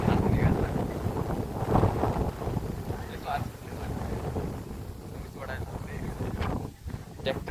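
Wind sweeps across open farm fields ahead of rain, buffeting the microphone in rough, uneven gusts while a voice talks intermittently over it.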